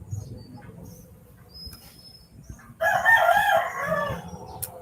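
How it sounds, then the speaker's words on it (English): A rooster crows loudly and close by, one long harmonic call cutting in after a stretch of quieter background noise. "I can maybe cover up the rooster sound with music"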